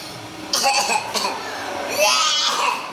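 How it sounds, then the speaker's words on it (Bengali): A few short coughs burst out in quick succession at home, mixed with childlike vocal noises and soft babble close by. "কাশি হয়েছে, মার কাশি।"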